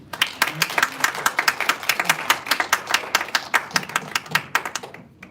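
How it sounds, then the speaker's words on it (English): Scattered, uneven clapping from a modest audience at a freedom award ceremony, individual claps distinct and close rather than a dense roar, continuing irregularly for several seconds. "Let's give a round of applause to our panelists."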